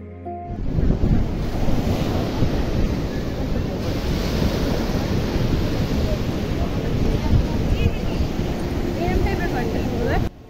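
Surf rolls continuously onto a sea beach in the early morning, a loud, unbroken wash of breaking waves with heavy wind buffeting the microphone throughout.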